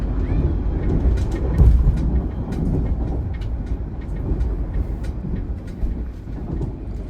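Aboard the KA Dharmawangsa night express, another Dharmawangsa train passes: a loud low rumble and rushing rail noise with scattered clanks and clicks, steady throughout and close.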